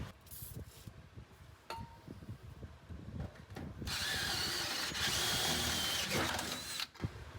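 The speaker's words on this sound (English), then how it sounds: "You drill in right here with some little small pilot holes." A power drill bores small pilot holes, starting with short bursts and then settling into a long, loud, sustained whine up close, ending with a brief final spin.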